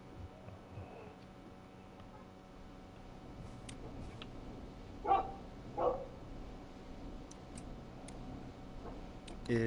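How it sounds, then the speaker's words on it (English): A neighbor's dog barks at night, two short barks a moment apart, heard faintly from a distance over a low steady background hum. "Is that a neighbor's dog?"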